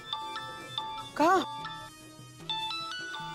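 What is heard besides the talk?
phone ringtone ringing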